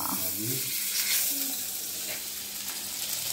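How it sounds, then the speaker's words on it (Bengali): A Bengal Meat patty sizzles softly on a tawa griddle pan, a faint steady hiss heard close with no talk over it. "এখন এটা আস্তে করে আল্লাহর নাম নিয়ে ভেজে ফেলবো"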